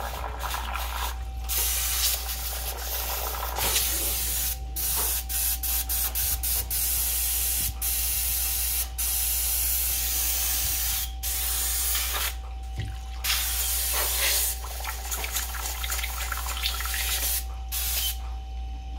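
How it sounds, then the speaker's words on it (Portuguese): An airbrush sprays water while being cleaned, making a steady hiss with a constant compressor hum underneath and brief interruptions as the trigger is released. "eu vou mostrar para vocês como é que eu faço a limpeza do aerógrafo"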